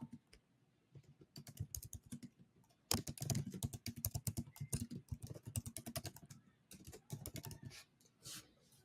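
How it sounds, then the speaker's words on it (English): Quiet, close typing on a computer keyboard, rapid irregular key clicks in bursts with brief pauses, no speech. "and then I can type what I want"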